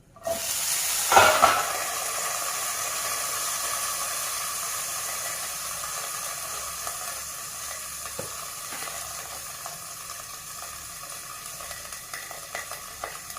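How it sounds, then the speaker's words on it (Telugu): Green chillies and onions fry in a covered pan for a Rayalaseema-style chicken gizzard fry, giving a steady close sizzle with a loud burst of popping early on and scattered sharp pops later. "పచ్చిమిరకాయలు కూడా డామ్ డామ్ అని పేలుతాయి కదా"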